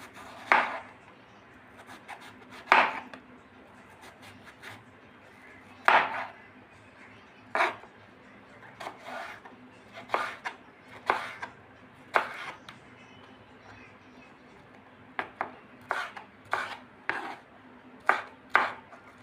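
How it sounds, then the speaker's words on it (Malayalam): A knife chops elephant foot yam stems in sharp, distinct strokes, singly at first and then in quicker clusters, close by and alone against a quiet kitchen background. "നമുക്കിതൊന്ന് അരിഞ്ഞെടുക്കാം. ചെറുതായിട്ടൊന്ന് അരിയാം."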